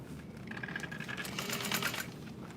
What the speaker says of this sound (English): All right, so I'm sewing